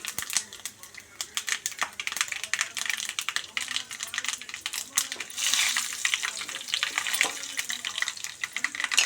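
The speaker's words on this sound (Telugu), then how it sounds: "ఆయిల్ వేడైన తర్వాత జీలకర్ర ఆవాలు ఎండుమిరపకాయలు వేసుకోవాలి" Cumin, mustard seeds and dried red chillies tempering in hot oil for a cucumber chutney produce dense, rapid crackling and popping, close and lively, continuing without a break throughout.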